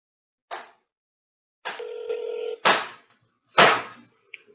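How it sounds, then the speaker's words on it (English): A telephone number is dialed: a few short separate tones, then a steady dial tone, followed by sharper clicks and beeps, all clear and isolated against silence. "Gary, I'm calling you on the phone."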